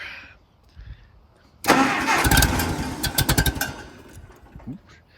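A 1959 Case tractor engine cranks briefly and catches with the choke on, firing loudly in uneven pulses for a couple of seconds before settling to a lower idle. Someone speaks quietly before it starts.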